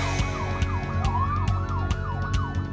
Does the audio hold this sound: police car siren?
yes